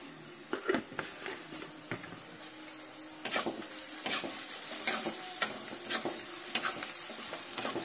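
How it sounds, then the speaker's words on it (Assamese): Onions frying in a pan with bay leaf, salt and turmeric, a steady sizzle broken by repeated scraping and clattering stirs of a spoon against the pan, close and alone. "পিঁয়াজখিনি এনেদৰে অকণমান ৰঙচুৱা হোৱালৈকে ভাজি থ'ব লাগিব"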